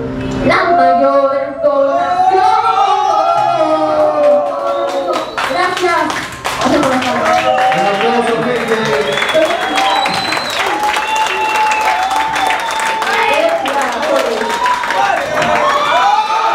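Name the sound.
applause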